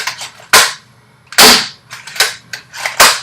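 Splatoon Splattershot toy blaster by Jakks Pacific fires five sharp, loud pops at an uneven pace, each a bright snapping burst with a short hiss tail, close and alone with no talking.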